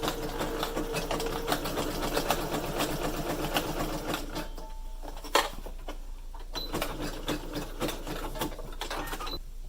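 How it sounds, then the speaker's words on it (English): A sewing machine runs a zigzag stitch down stretched elastic on a fabric face mask, a steady close mechanical whirr with rapid stitching pulses that eases off midway, then resumes in short bursts. "I'm going to zigzag stitch straight down. And I'm going to stretch my elastic as tight as I can while I'm sewing"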